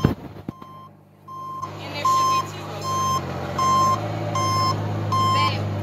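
A truck reverses toward a man standing his ground while sheriff's deputies look on, its backup alarm beeping about seven times in a steady, evenly spaced rhythm over a low, continuous engine rumble, close and clear, with no talking.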